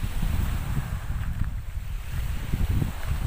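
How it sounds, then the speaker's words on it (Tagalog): Strong northeast monsoon wind, the amihan, buffets the microphone at the shore, a loud continuous roar with gusts, mixed with surf and waves breaking nearby. "Medyo malakas lang yung hangin dahil nga po amihan ngayon."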